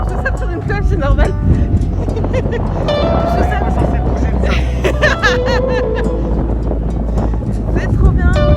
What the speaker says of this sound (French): Bien arrivé sur la plage de Deauville, il y a beaucoup de vent.